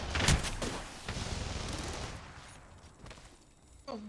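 Minigun fire in a video game, a dense rapid burst of gunfire that opens loud and tapers over a few seconds, followed by a brief electronic tone near the end.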